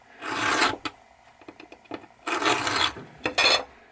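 Metal file rasping notches into a steel wedge for an axe or hammer handle, in two long sustained bursts of scraping strokes with a few short clicks between, close and fairly loud.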